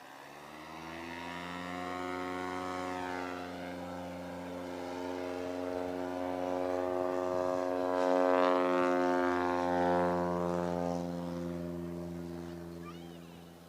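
A Cessna 170B's piston engine drones on the STOL competition line at an air show, a harmonic propeller hum that swells louder toward the middle as the plane runs up nearby, then eases slightly.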